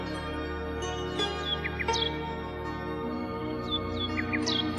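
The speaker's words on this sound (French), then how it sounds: "puisse venir écouter le rossignol chanter" A nightingale sings in a fairy-tale setting, with short rising and falling whistled chirps in several bursts over a steady musical bed, fairly soft and at a moderate distance.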